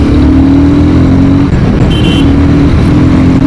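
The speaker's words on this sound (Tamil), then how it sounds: "நல்லா பவர்ஃபுல்லாக தாங்க இருக்குது பைக்கு." Royal Enfield Guerrilla 450 motorcycle engine from 2025 running steadily at close range, a loud continuous low throb with a droning harmonic that dips briefly mid-clip and returns, no speech over it.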